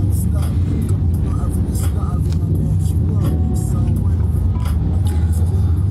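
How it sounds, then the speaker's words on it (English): Rush hour traffic heard from inside a car: a steady, loud low rumble of engines and passing vehicles, with voices talking throughout. "Ayan yung traffic."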